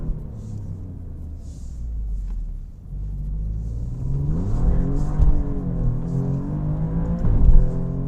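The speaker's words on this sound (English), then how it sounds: "Little wheel spin in second there, getting going" An Alfa Romeo Giulia Quadrifoglio in race mode pulls away on a bumpy back road, its engine rumbling and then rising as it revs hard in second gear with brief wheel spin, heard steadily from close by.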